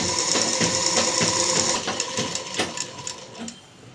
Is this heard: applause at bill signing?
no